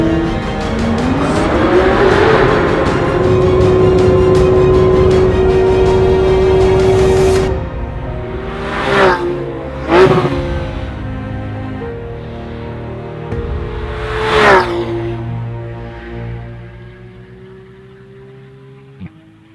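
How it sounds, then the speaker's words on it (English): A 991-generation Porsche GT3 drives hard, its engine note rising in a long steady rev before dropping away. A few sharp shifts or blips follow, then the sound fades to quiet. "the ultimate fun machine for the road, the 991 generation Porsche GT3"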